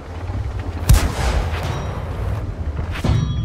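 Churchill Crocodile tank main gun firing in World of Tanks: two heavy cannon booms about two seconds apart, each a sharp thump followed by rumbling tail, over a steady low engine drone.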